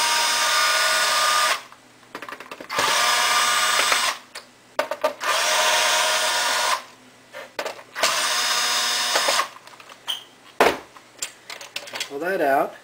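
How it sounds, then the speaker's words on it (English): A power screwdriver loosens the four screws holding the heatsink springs inside a PS3, giving several whirring bursts of a few seconds each, separated by pauses with small metallic clicks, close by. "let's loosen the 4 screws that hold these springs in place that are pulling the heatsink and the fan against the underside of the motherboard"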